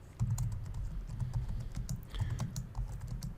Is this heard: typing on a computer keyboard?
yes